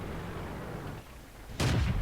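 A tank cannon in World of Tanks fires one sudden, loud blast that cuts through a low background rumble, followed by a short booming decay.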